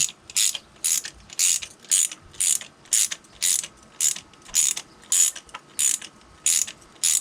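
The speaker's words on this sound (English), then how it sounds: "And we'll just gently screw it in here." A ratchet tool clicks in quick regular bursts as bolts are screwed into the valve cover of an MK4 GTI, about a dozen close, crisp strokes with short pauses between them.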